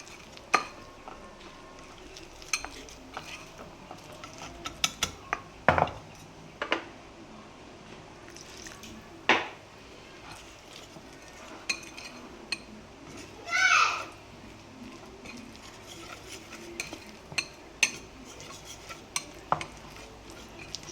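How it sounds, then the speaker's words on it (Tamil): A spoon stirs a thick dosa-like batter in a bowl, giving sparse, faint scrapes and light clinks spread over a quiet stretch, with soft voices in the background. "கொஞ்சமாக ஊற்றி கலக்குங்க"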